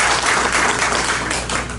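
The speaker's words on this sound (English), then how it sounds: "I would like to give him another clap of hands to thank him for his presence" Audience clapping hands in thanks at a community gathering, a loud, continuous burst of many claps from a nearby crowd that eases slightly toward the end.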